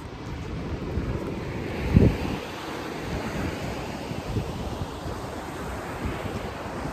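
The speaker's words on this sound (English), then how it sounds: "And we've also found the beach." Ocean waves wash onto a Sri Lankan beach in a steady, broad roar of surf mixed with wind noise on the microphone, with one brief louder thump near the start and no talk.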